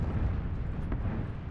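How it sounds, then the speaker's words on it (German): Explosions in the battle game PUBG roll as a continuous low, rumbling boom that fills the whole stretch, loud and dense, with a faint sharper crack near the middle. "Also bei mir explodiert hier alles nur."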